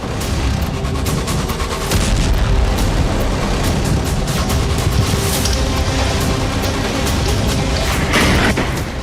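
Loud, dense rumbling blasts and crackling bangs roll on continuously, like a heavy barrage of explosions from a wartime missile strike on Ukrainian cities, with no voices.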